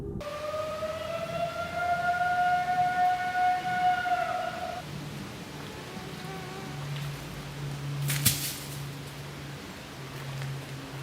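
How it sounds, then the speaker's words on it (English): A wavering siren-like tone rises and holds for several seconds, then a lower drone continues amid steady rain-like hiss and a brief rustle. "a strange siren-like sound suddenly broke through the quiet"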